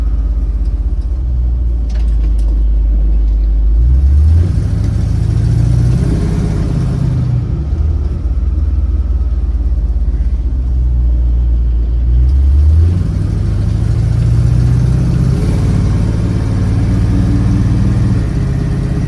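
A 1964 Ford Galaxie 500XL convertible accelerates, its engine rumbling loud and close, rising in pitch through two long pulls with a brief ease-off between, under steady road and wind noise.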